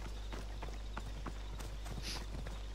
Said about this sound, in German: Dann rufen wir mal unser Pferdchen.